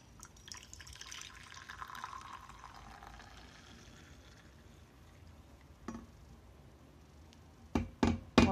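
Blue wine poured into a cup, a gentle liquid trickle and splash at close range, fading into quiet before a few sharp clinks and knocks at the end, with no talking.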